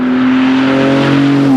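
A turbocharged Porsche GT2 RS engine pulls hard under acceleration on German roads, a loud, steady, close drone with its pitch rising slightly over the short run, no voices over it.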